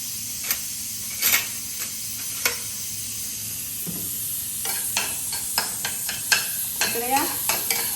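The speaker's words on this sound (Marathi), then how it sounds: "फोडणी." Tempering (phodni) for chicken curry sizzles and crackles in hot oil, with scattered sharp pops and clicks building into a busier run of spitting bursts toward the end.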